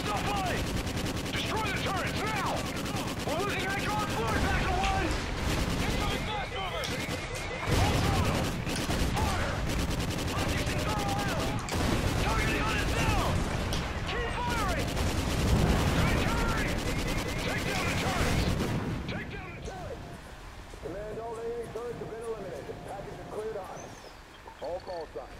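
Sustained machine gun fire and explosions from the Call of Duty Ghosts campaign mission Severed Ties roar loud and nearly continuous, with someone talking over the battle before it eases near the end.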